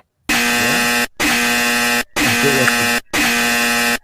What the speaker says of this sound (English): Painful buzzer.